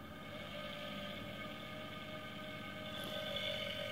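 An AC motor under open-loop control spins at rising speed, giving a steady tonal whine with layered harmonics that brightens slightly toward the end, close and fairly quiet, with no talking.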